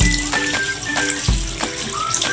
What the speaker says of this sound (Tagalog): Hugasan natin ng mabuti ang ating gulay.